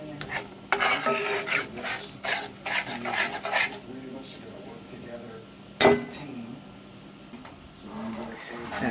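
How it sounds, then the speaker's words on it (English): Brown sugar mixture being stirred by hand in a bowl or pan, with steady scraping and rubbing strokes that are dense for the first few seconds and then thin out, plus one sharp clack near the middle. "We'll get all that stirred around and mixed in."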